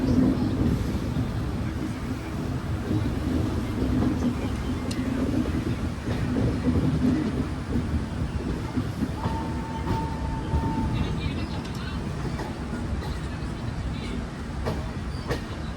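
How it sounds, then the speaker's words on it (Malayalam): The Venad Express, Shornur to Thiruvananthapuram, rumbles past in a steady, loud low roar with faint rail clatter and a brief horn-like tone partway through. "വരുന്നത് നമ്മുടെ ഷൊർണൂർ തിരുവനന്തപുരം വേണാട് എക്സ്പ്രസ് ആണ് കേട്ടോ."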